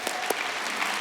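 Audience applause in a hall during a sermon-style talk, a steady wash of many hands clapping at moderate level for the whole second, with no voices.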